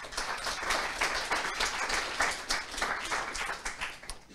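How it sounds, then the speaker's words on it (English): An audience at a youth sport coaching presentation claps steadily, dense applause holding at an even level throughout without voices. "so please can you give them a round of applause for me again"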